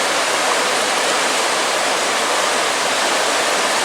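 A trout river in the wild Aveyron countryside rushes loudly and continuously, a dense, steady roar of flowing water close by with no voices.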